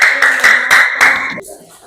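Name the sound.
class applauding a student group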